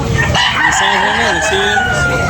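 A rooster crows loudly and close by, one long drawn-out call, with other fowl and faint background noise around it.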